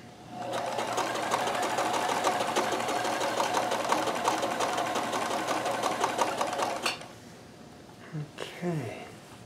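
Kenmore 158.1914 sewing machine chain stitching, running close and steady for about seven seconds with a fast, even mechanical chatter, then stopping abruptly; a voice follows briefly.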